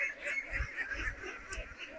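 Ducks on a duck farm of 525 birds quack and honk in a noisy cluster, overlapping calls coming in quick bursts from the flock close by.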